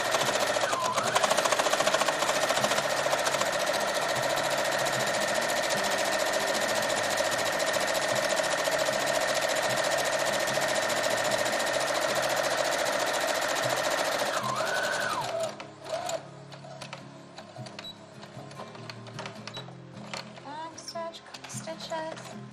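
Sewing machine back stitching a fabric face mask, running steadily and loud for about fifteen seconds, then stopping, leaving quieter handling noises behind.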